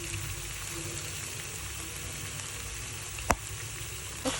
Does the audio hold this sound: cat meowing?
no